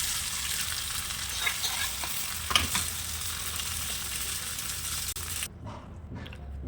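A hot tempering of garlic, dried red chillies, curry leaves and coriander sizzling as it is added to sun-dried mango dal: a dense, close crackling hiss that cuts off abruptly near the end, leaving a quieter murmur.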